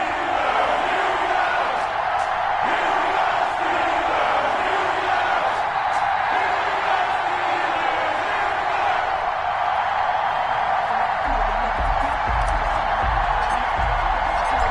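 A stadium crowd roars steadily in an EA Sports football video game ahead of a Houston Texans versus Pittsburgh Steelers matchup, a dense, loud and continuous wash of cheering with no clear breaks.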